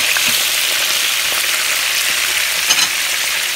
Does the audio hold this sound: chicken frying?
yes